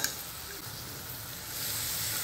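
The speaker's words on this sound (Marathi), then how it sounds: "थोडीशी परतून घ्यायची आपल्याला, या ढोबळ्या मिरचीचा कच्चेपणा जायला हवा।" Finely chopped capsicum sautéing with onions for pav bhaji, a soft, steady sizzle with faint stirring, close and quiet.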